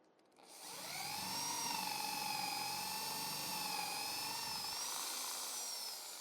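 A handheld electric drill runs up to speed and holds a steady high whine while boring a hole, its pitch wavering slightly under load, close and alone with no talk.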